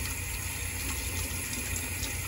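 Water flowing steadily in a car aerodynamics demonstration, where the stream stands in for airflow; an even, close rushing sound with no speech.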